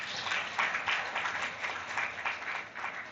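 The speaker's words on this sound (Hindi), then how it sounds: "तो ताली बजाओ।" A church congregation claps together during a Sunday sermon, a dense patter of many hands at an even, continuous level with slight swells. It runs for a few seconds with no speech over it.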